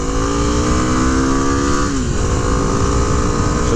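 A 2006 Kawasaki KLX250 single-cylinder trail bike wound out at high RPM, its engine droning loud and steady as the pitch climbs and then drops at a gear change, with no talk.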